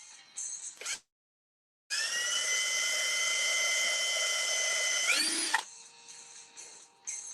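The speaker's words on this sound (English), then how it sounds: "I'm just drilling." A power drill whirs loudly and steadily for several seconds after a short pause, winding down at the end, with lighter mechanical noise before and after.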